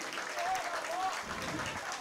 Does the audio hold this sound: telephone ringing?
no